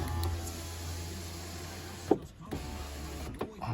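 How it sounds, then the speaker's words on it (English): The electric window motor of a Volkswagen Passat, running after a switch replacement, whirs steadily close by for about two seconds. It stops with a soft thunk, and a couple of brief clicks follow. "Window working from there as she should, due to my switch that I had"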